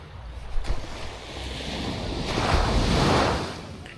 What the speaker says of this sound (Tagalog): Medyo may alon.